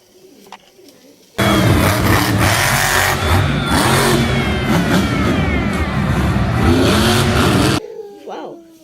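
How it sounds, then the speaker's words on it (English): A red and green monster truck engine revs hard and drives, a loud sustained roar that cuts in abruptly and holds for several seconds before dropping away. "Wow, monster truck."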